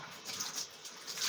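Tap water runs into a sink while hands are washed, a soft, steady splashing stream that swells slightly in small surges.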